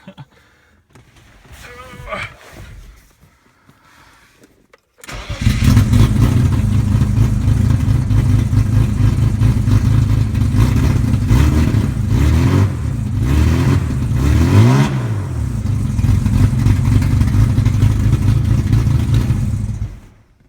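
A 1988 BMW E30 M3 engine starts up after a few seconds of quiet and runs loud and close with steady revving and a clattery mechanical edge, continuing right to the end.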